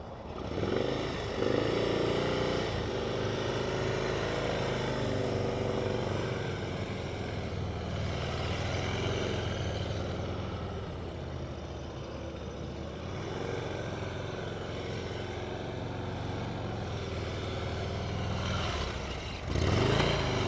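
Motorcycles ride slow, tight maneuvers at a motorcycle rodeo, their engines droning and revving steadily nearby for a long stretch, with a brief dip and a renewed surge at the end.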